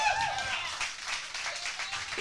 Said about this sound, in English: that is a note, and it's worthy of applause, too